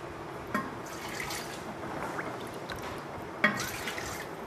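Water poured into a clay pot (matka) while cooking daal, about 2.5 litres going in, giving a soft, steady trickle and splash with a couple of brief louder drips, fairly faint and with no talking.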